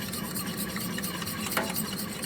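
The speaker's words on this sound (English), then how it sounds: "And then we're just going to put these eggs in here. Stir them in because it cools the milk down." Eggs being stirred into warm milk in a bowl for scone batter, a steady close scraping swirl that runs continuously with one slightly louder knock of the utensil partway through.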